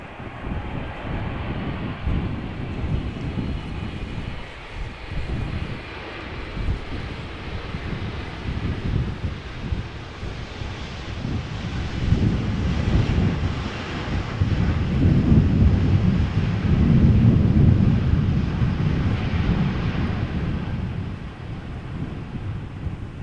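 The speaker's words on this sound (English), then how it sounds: "This is a Boeing 777" A Boeing 777 lands at Amsterdam Schiphol in a crosswind, heard as a distant, broad engine rumble that swells toward the middle and fades, mixed with wind buffeting the microphone.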